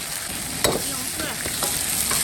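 Pork stir-fries in a wok with a bright, constant sizzle and a few quick scraping stirs of the spatula, close and loud.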